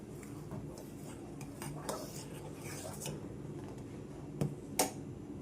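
A spoon stirs thari payasam, a semolina pudding made Ernakulam style with powdered cardamom, in a pan. It gives faint, sparse clinks and scrapes of metal on metal, with a couple of sharper taps near the end.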